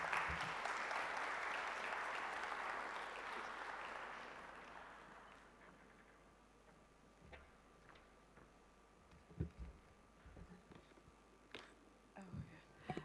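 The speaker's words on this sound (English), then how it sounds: "thank you for the applause" Audience applause at an education conference talk, a broad wash of clapping that starts loud and steadily fades away over about six seconds, leaving a quiet room with scattered small knocks and shuffles.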